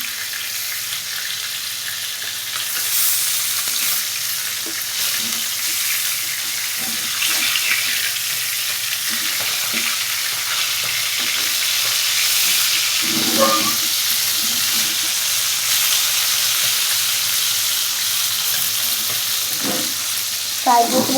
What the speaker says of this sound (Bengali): তো এই যে আমার মাছ ভাজা হয়ে গেছে